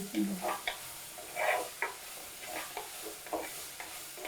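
Food sizzles and crackles in a hot pan, with intermittent stirring scrapes and bursts of frying noise, close up and fairly loud.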